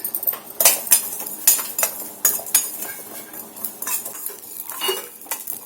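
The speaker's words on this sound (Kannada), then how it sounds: "1 ಸ್ಪೂನ್ ಅಷ್ಟು ಜೀರಿಗೆಯನ್ನ ಹಾಕೊಂಡು ಇದನ್ನ ಹುರ್ಕೊಳ್ಳೋಣ." Black peppercorns and cumin seeds dry roasting in a pan while being stirred, producing repeated metallic scrapes and clinks of a spoon against the pan, close and irregular with a faint underlying rattle and no talking.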